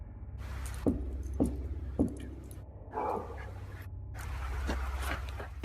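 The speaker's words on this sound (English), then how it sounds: "It began with the sounds of something hitting a tree." Sharp knocks on a tree in a dark forest at night, three evenly spaced loud hits early on followed by a duller thud and a rustling, breathy stretch, all over a low steady rumble.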